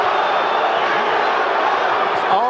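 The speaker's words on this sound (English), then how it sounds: "if we hear that cheer again, I believe it was Let's Go Bowe" A large arena crowd at the 1992 Riddick Bowe vs. Evander Holyfield heavyweight boxing fight roars with a dense, sustained wash of cheering and chanting, with a commentator's voice over it.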